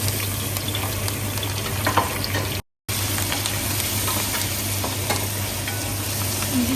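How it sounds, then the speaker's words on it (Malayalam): Dried red chilies frying in hot oil for Angamaly pork fry give a loud, dense, unbroken sizzle with small pops and crackles, cut by a brief silent gap midway. "നമ്മൾ ചേർത്ത് കൊടുക്കുന്നത് ഉണക്കമുളക്. ഇത് നന്നായി മൂക്കുന്ന വരെ വെയിറ്റ് ചെയ്യണം."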